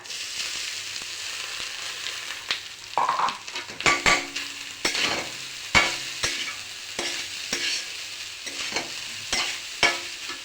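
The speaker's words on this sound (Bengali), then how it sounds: "ভেজে নিচ্ছি। এখন দিয়ে দেব আমি নারকেল কুড়া।" Grated coconut frying in ghee with raisins and cardamom, stirred steadily in a pan: a continuous close sizzle broken by repeated sharp scrapes and clacks of the spoon against the pan, with no voices.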